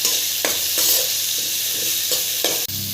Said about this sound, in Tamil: அதையும் போட்டு வதக்கிக்கலாம் ஒரு அரை தக்காளி பழம் போட்டு வதக்கிக்கலாம் கொஞ்சோண்டு புதினா போட்டு புதினாவை கொஞ்சோண்டு போட்டுட்டு நல்லா வதக்கி விட்டுருங்க